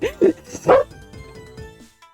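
A dog barks in the Ace Attorney Investigations game: two sharp, close barks, then softer yips and a brief whine that fade out.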